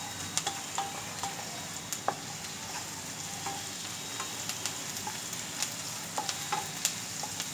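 Onions frying in a pan, a steady sizzle of moderate loudness with scattered light clicks and scrapes of stirring, with no voice.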